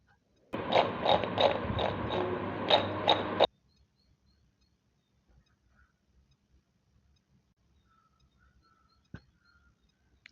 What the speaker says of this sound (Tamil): சீட்டோஸ் சவுண்ட் எப்படி கேட்குது பாருங்கள்